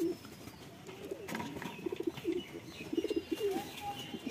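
Adult pigeon pairs kept in a loft give soft, repeated low cooing calls at close range, overlapping in a gentle rhythm with faint background noise.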